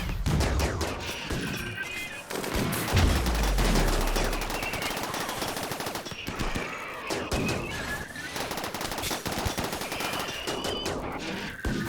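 Gunfire in the video game RimWorld, dense bursts of rapid machine-gun shots and fusillades running nearly continuously and loud, with crashes mixed in.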